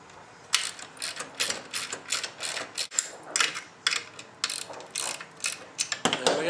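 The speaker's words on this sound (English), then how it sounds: "So you just take an Allen wrench, like so." Rapid ratcheting clicks come in uneven bursts, close and crisp, as an Allen wrench snugs a nylon nut while installing a flat accelerator pedal on a 1967–79 Volkswagen, with brief pauses between turns.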